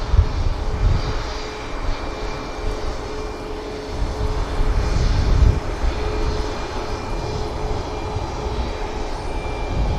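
An airliner takes off from runway 23 left at Manchester Airport, its engines a loud, sustained broadband roar with a steady whine running through it, swelling slightly mid-way and holding strong throughout with no voices.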